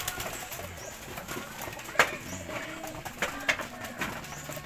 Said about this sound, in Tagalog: Ayan, yung ating mga alagang kalapati guys, oh.